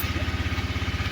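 Motorcycle engine running just after repair of a backfire problem, idling with a fast, steady, even pulse and a light mechanical clatter, close and alone.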